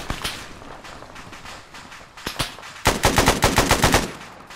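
Automatic gunfire crackles in the Arma 3 military simulation, with scattered single shots and short bursts leading into a loud, rapid sustained burst near the end.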